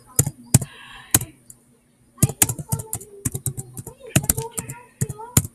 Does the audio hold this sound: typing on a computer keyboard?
yes